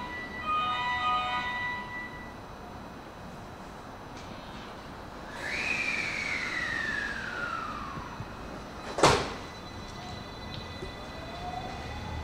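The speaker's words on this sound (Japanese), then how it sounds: "ドアが閉まります。" Train doors on the JR West Osaka Loop Line at Tsuruhashi Station during evening rush close with a whoosh and a sharp thump, amid platform chimes and station ambience.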